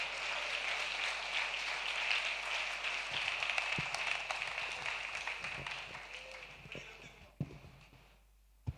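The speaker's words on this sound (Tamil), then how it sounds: "கைதட்டு, நல்ல கைதட்டு" A church congregation applauds during a Sunday service, with dense, steady clapping that swells and then thins out over several seconds before fading to scattered claps and quiet.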